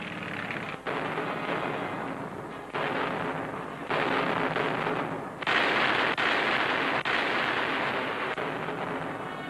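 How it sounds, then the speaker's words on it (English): Artillery bombardment on the Mareth line in Tunisia during the WWII North Africa campaign, heard as a dense, continuous roar of heavy guns with abrupt shifts in intensity, loud and rough like old newsreel sound. "the British were attacking the entire Mareth line with tanks and big guns."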